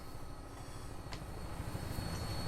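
Military helicopter flying in Fallout 4, heard as a steady low rotor and engine drone filling the scene, constant and fairly loud, with no talking.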